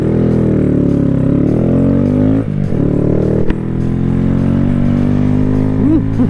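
Honda motorcycle engine droning steadily during a ride through Laveen, Arizona, loud and close, with a brief throttle dip midway and a quick rev toward the end.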